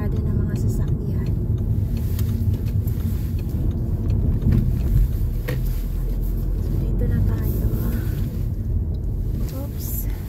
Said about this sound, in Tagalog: parang ang daming nakaano ngayon, parada ng mga sasakyan